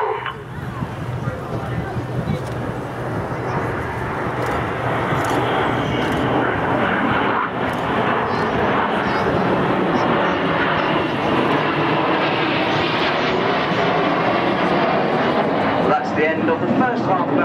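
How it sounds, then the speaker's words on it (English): Red Arrows BAE Systems Hawk T1 jets fly a Short Diamond formation roll at the Farnborough airshow, a loud, sustained jet roar that swells and holds, with a commentator's voice and crowd noise underneath. "Out to our right now in a formation called Short Diamond, this is the Short Diamond roll."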